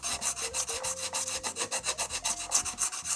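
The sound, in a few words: sanding guitar frets with FRTLZR fret leveling tool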